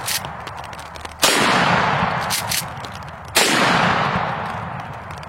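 Two loud shotgun blasts from Federal rifled slugs, each a sharp crack followed by a long rumbling decay, spaced about two seconds apart with a few small clicks between.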